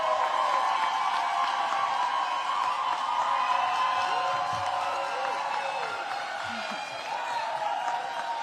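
An audience at a Washington, DC public schools education event claps and cheers for a returning principal, giving sustained, loud applause with whoops throughout.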